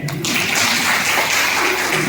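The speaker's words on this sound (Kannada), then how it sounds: "ಅವ್ರಿಗೆ ಚಪ್ಪಾಳೆ ಕೊಡೋಣ" A comedy show audience applauds, a dense steady wash of many hands clapping that starts abruptly after a brief pause and carries on loudly throughout.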